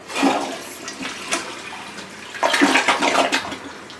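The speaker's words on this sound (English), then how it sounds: "Wow, quick flush." A toilet in a remodeled 1966 Beach camper trailer flushes in a quick, close rush of water that surges, dips and then swells again.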